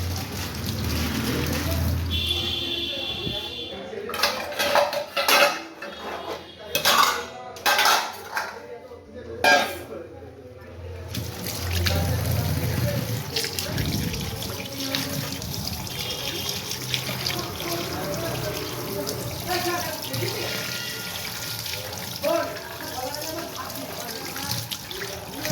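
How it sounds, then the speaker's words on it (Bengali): Fish being rinsed under a running kitchen tap in a sink, with steady water flow, clattering dishes and clinking cutlery, plus a burst of sharp metallic knocks partway through; no talking. "চলো মাছটা ধুয়ে নিই।"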